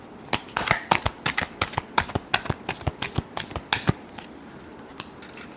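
Tarot cards are shuffled by hand in a rapid series of crisp riffling snaps, about a dozen quick bursts close to the microphone, then a quieter pause at the end.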